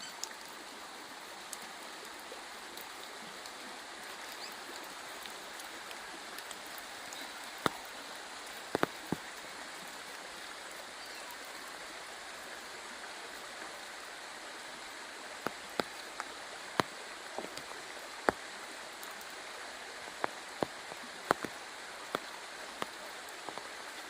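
Steady rain patters on surfaces at a riverside campsite with a few sharper drops tapping nearby, a continuous wash of sound with no voices.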